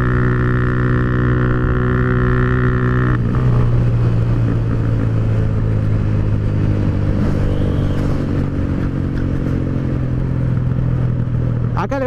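A Motomel S2 motorcycle engine drones loudly and continuously during a GPS top-speed run, with a shift in pitch partway through and no talking.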